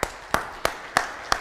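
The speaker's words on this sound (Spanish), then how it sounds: "Démosle un aplauso al Señor." A church congregation claps in unison, five sharp, evenly spaced claps in a steady rhythm with a short ringing tail after each.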